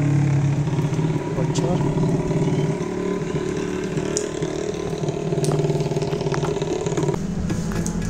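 A motorcycle engine runs steadily near an abandoned hilltop waterpark at Darajat, Garut, a continuous low, throbbing drone close by with a brief spoken word over it.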